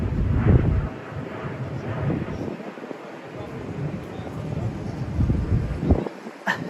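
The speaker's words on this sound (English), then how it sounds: "the wind is so loud" Loud wind gusting against the microphone in rough low roars that rise and fall, with occasional muffled sounds beneath, outdoors in Miami, Florida.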